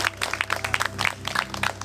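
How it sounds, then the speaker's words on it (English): A small outdoor crowd claps at an evening mindfulness gathering in a garden, quick uneven hand claps close by, lively and fairly loud, continuing for a couple of seconds under a low background hum. "Let's give Maylin a big round of applause."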